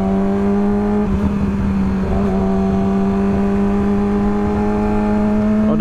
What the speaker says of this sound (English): this bike sounds better and better every time I ride it